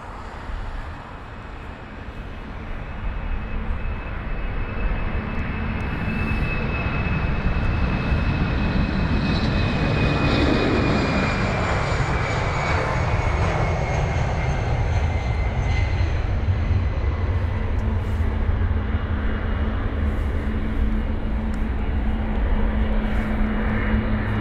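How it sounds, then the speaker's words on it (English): Airbus A319 jet engines at London Heathrow airport give a loud, steady roar that builds early and then holds as a broad, continuous rumble with a faint high whine above it. "you could probably hear in the background the starting of a few engines"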